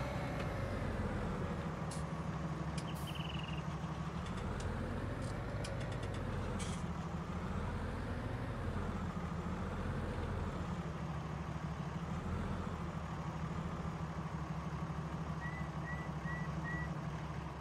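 A Ford tractor reverses in Farming Simulator 19, its engine droning steadily with a wavering pitch throughout, and a few faint beeps near the end.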